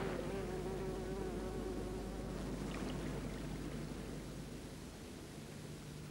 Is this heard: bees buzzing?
yes